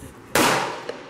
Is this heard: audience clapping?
no